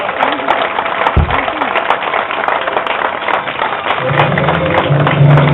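A group claps steadily at an informal gathering where a buggy is presented, a moderately loud crowd applause with cheering and talk mixed in, and a low hum rising near the end.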